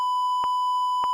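Two short electronic sine-tone beeps over a continuous steady tone, clean and evenly spaced, with no voices.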